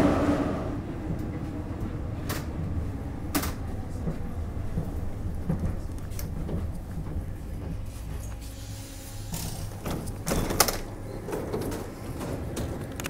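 A Paris metro train rolling through a tunnel near Gare d'Austerlitz, giving a continuous low rumble with scattered clanks and sharp bangs, no talk.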